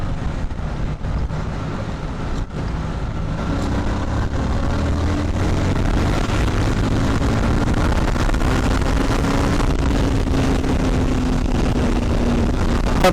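Tractor on a dusty road being overtaken, its heavy engine drone continuous and loud throughout, a rising and falling low tone running under the steady rumble of road noise.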